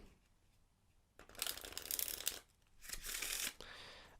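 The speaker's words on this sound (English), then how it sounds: "so I'll shuffle it again." Two quick bursts of riffling playing cards, each lasting about a second, close up and crisp, with quiet pauses around them.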